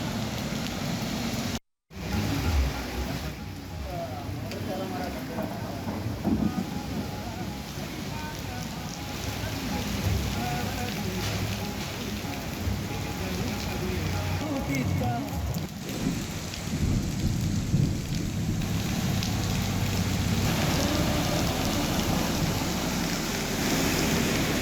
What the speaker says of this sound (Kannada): ಭಾರಿ ಮಳೆಯೇ ಆಗಿದೆ ಬೀದರ್ನಲ್ಲಿ ಅಂತ ಹೇಳಲಾಗ್ತಾ ಇದೆ